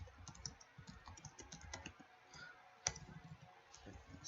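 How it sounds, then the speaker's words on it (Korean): Quiet, rapid clicking of a computer keyboard being typed on at close range, irregular bursts of key presses with one sharper tap partway through, no one talking. "오늘따라 타이핑이 안 쳐지네요"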